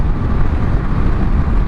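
A Honda ADV 150 scooter engine held at full throttle gives a loud, steady, close drone, with wind roar and road rumble mixed in and no speech.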